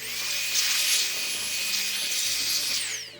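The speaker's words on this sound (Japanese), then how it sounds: "まずブロワーを使って表面のねホコリみたいのを落としていきます" A loud, steady hiss of an air blower blowing dust off a car engine bay runs continuously at close range, whooshing without break before trailing off at the end.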